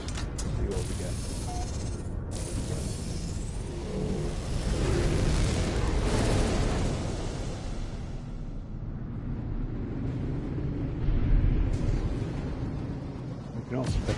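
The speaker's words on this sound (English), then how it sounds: "Let's go shoot the asteroids, see what we get." Ship weapons fire at asteroids in No Man's Sky, a dense run of booming blasts and bursts over a continuous low rumble, loud and sustained throughout with a few sharper pops near the end.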